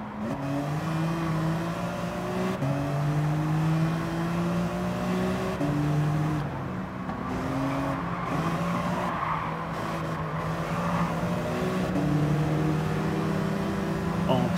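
Racing car engine in Gran Turismo 7 gameplay, steady droning revs with rising and falling pitch steps as gears shift, loud and continuous throughout with faint tire noise.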